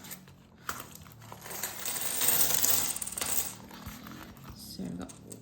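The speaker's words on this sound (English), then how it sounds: "Lots of coins." Loose coins clink and jingle as they are handled and dropped together for cash stuffing into a budget envelope, a close, continuous metallic rattle that builds to a dense spill midway, then tapers off.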